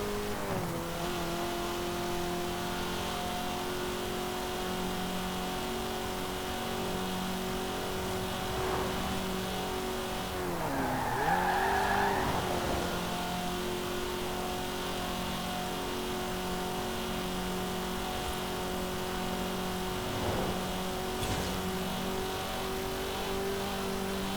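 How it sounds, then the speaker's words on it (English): Steady, sustained engine drone of a 2005 Mazda Mazdaspeed MX-5 with a turbocharged engine in Forza Horizon 4, holding a fairly even pitch with a brief rise and swell midway, no talking over it. "But I'll first let you listen to the engine for a little bit, and then we'll talk about it some more."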